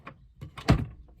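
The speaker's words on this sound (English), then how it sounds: "self-closing drawer" A magnetic self-closing cabinet drawer sliding shut: a couple of soft rolling bumps, then a firm, close thunk as it pulls itself closed, followed by a faint settling tap.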